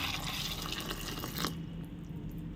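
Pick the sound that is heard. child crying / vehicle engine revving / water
water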